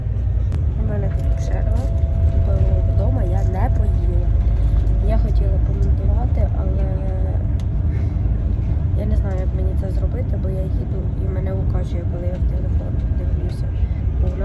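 A car drives along a rough road on a long trip home to Ukraine, a steady loud low road and engine rumble throughout, with people talking inside the cabin over it.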